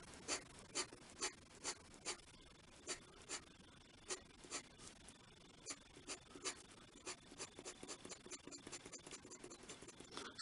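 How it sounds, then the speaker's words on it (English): A pen drawing short vertical parallel lines on paper for a landscape sketch, a quiet, close series of rhythmic scratchy strokes that speed up toward the end. "will draw using the vertical parallel lines"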